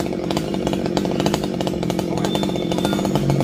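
A chainsaw cuts through king palm fronds, its engine loud and close with a steady, buzzing roar that runs the whole time.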